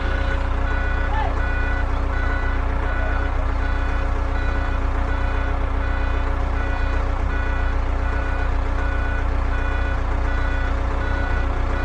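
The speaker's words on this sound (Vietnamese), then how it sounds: "Bơm thủy lực của nó rất là êm." An excavator's hydraulic pump runs with a steady, smooth drone and even tonal hum throughout, while a reversing beep repeats in the background.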